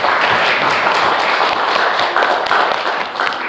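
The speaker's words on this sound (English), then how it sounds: "How about another round of applause?" An audience claps after a speech at a public speaking event for young girls, dense close clapping with sharp individual hand claps standing out, loud and steady before easing slightly toward the end.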